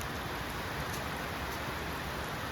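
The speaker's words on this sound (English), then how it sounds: "And here's the rain." Steady rain pours down on a farm, a dense, even hiss of drops with no pauses, fairly close and uniform throughout.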